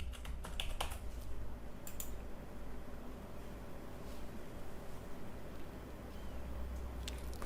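Quiet typing on a computer keyboard, a few clustered key clicks early on, then faint scattered taps over a steady low hum.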